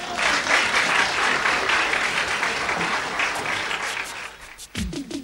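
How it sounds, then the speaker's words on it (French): An audience applauds in a dense, loud burst of clapping that holds for several seconds, then thins out into a few scattered claps near the end. "On l'applaudit quand même."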